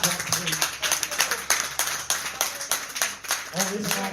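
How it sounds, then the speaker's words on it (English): A church congregation clapping hands in a quick, steady rhythm during a lively service, close and continuous, with voices talking over it. "Come on, clap your hands."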